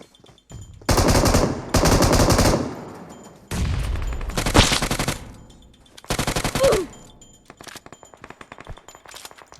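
Bursts of automatic gunfire in the video game PUBG Mobile, loud and close, coming in several rapid strings of shots separated by short pauses, with scattered single shots and quieter clatter toward the end.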